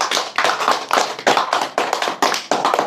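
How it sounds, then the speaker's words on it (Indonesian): Audience clapping at a spoken religious talk, bursts of hand claps swelling and fading in several waves, close and fairly loud with no talk over them. "Tepuk tangan dong."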